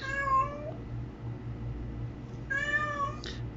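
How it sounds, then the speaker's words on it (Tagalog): An indoor cat cries out in two long, drawn meows separated by a pause, fairly close and clear over a low background hum, with no one talking. "Umiiyak ang aking pusa dahil sa nangyari."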